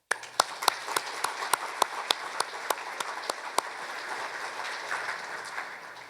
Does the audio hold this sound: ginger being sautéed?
no